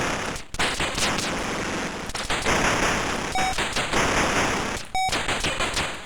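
Rapid bursts of gunfire in the Atari ST game Operation Wolf crackle continuously, with brief gaps and sharp electronic beeps cutting in now and then.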